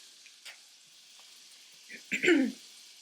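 Something melting in a pan on the stove while making fried apples, a soft, steady sizzle with a brief louder burst of frying noise near the end, quiet overall.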